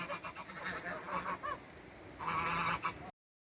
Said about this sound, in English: the geese are loving this rain